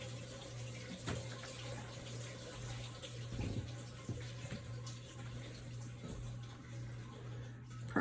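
Water from a garden watering system runs in a steady, fairly faint hiss and trickle, with a low electrical hum underneath and a few soft knocks, and no talking.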